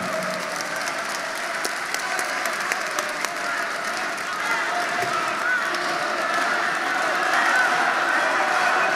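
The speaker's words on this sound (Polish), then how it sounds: "Wielkie brawa!" A crowd at a public election debate in Kielce gives sustained, loud applause with a steady wash of clapping that swells slightly near the end.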